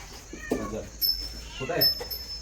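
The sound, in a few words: cat meowing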